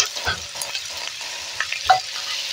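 Freshwater snails and mussels fry with chili powder, turmeric and ginger in a pan, a soft sizzle under a few scattered clinks and scrapes of a spoon stirring them close by; no voice.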